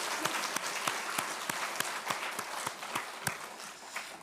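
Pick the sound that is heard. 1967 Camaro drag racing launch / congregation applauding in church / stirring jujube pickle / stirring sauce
congregation applauding in church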